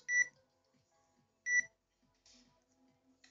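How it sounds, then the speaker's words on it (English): Electronic beeps in the Gummy video game: two short, sharp high beeps spaced about 1.3 seconds apart, followed by softer scattered game tones amid quiet. "Why is it beeping so much?"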